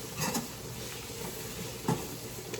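Minced garlic stirred into a hot sizzling pan for smothered-style jackfruit, a steady close frying hiss with a few soft scraping stirs and light utensil knocks against the pan.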